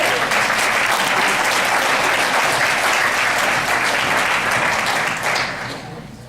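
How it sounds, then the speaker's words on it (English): An audience gives a sustained round of applause at a gathering, loud, dense and continuous for several seconds before tapering off at the end, with faint voices mixed in. "Pat Yeager, give her a round of applause, folks."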